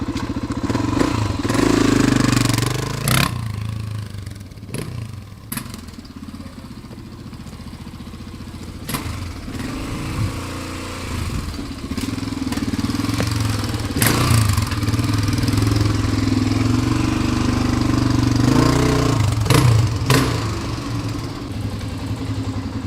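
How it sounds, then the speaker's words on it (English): A 1985 Honda XR350 motorcycle engine idles steadily and evenly close by, a smooth low thrum with a few brief knocks and clicks, with no talk. "Listen to the motor on this thing. There's no valve clatter. There's no cam chain clatter. There's no piston slap. It idles."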